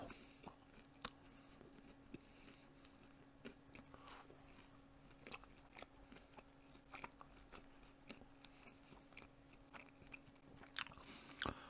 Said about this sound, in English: With every bite, you can taste the crunchiness of it.